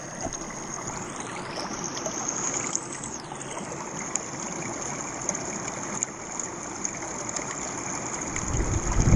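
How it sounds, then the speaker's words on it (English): Fast-moving stream water rushing steadily and close while gold sniping in a UK river, a continuous broadband flow with small splashy surges and no voices. "I'm in some pretty fast moving water here"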